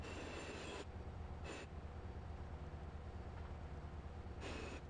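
Freight train rolling along the tracks in GTA San Andreas, a steady low rumble with faint rail noise and a few brief higher hissing bursts, continuous and fairly quiet throughout.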